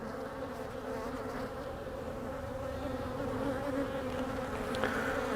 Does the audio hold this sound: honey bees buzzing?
yes